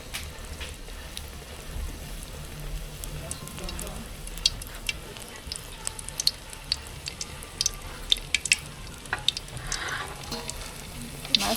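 A second batch of battered mushroom and banana-blossom fritters sizzling in hot oil, a continuous crackling hiss dotted with sharp pops and spits, close and steady throughout, with occasional stirring sounds.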